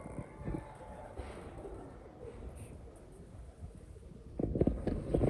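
Breeder pigeons coo softly and steadily against a low, rumbling background, with a louder burst of cooing and fluttering-like noise near the end.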